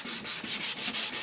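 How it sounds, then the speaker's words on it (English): Sandpaper of 220 grit rubs against a spinning yellow birch bowl on a lathe, a soft hissing scrape pulsing in about six even back-and-forth strokes, close and quiet. "This is 220 sandpaper."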